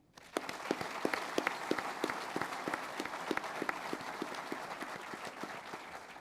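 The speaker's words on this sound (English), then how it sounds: "Please join me in applauding all of our individual award winners once again." Audience applause for award winners at an Air Force warrant officer training school graduation: steady, moderately distant clapping from a large crowd that carries on evenly, with a few louder individual claps standing out.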